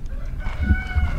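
A chicken gives a short burst of clucking nearby, a couple of throaty calls over a low outdoor rumble.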